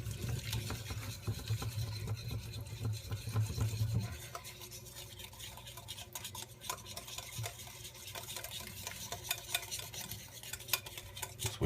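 A whisk scrapes and swirls quickly through a crab cake sauce mixture with sweet relish in a bowl, a close, rapid rasping stir that keeps going without talk over it, after a low hum fades early on.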